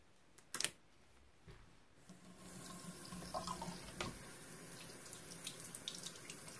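Warm water runs steadily from a tap over a doll's nylon hair during a conditioner rinse, starting after a couple of seconds as a continuous close splashing stream with small spattering bursts.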